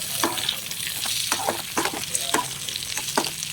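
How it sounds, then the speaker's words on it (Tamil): Tomato, roasted gram, cashews and coconut sautéing in a hot pan for a mutton curry, with a constant sizzle broken by repeated scraping stirs of a spoon against the pan, close and clear with no talk. "ஒரு 10 முந்திரி பருப்பு, கொஞ்சமாக தேங்காய், இதெல்லாம் போட்டு நல்லா வதக்குன்னு வதக்கிக்கணும்"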